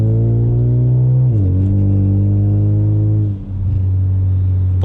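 A deep, steady exhaust drone from an aftermarket muffler fills the cabin as a car cruises in cold weather, its low hum shifting pitch slightly a couple of times.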